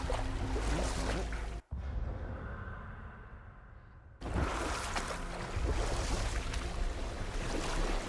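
A boat moving across water in the video game God of War, a continuous wash of water and rushing air that drops to a quieter, darker lull for a few seconds before the full surging noise returns.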